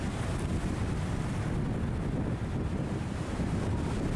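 Strong wind buffets the microphone over a constant roar of waves at a harbour where fishing boats come and go, a dense, loud, unbroken rush.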